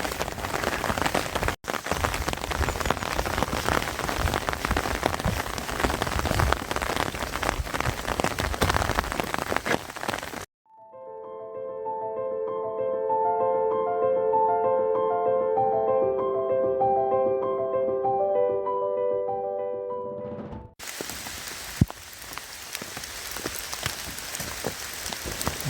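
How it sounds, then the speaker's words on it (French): Steady heavy rain falls while walking outdoors on a coastal route in France with the umbrella removed, a dense close hiss of drops, interrupted midway by a stretch of gentle melodic music before the rain resumes. "Vous entendez malgré la pluie?"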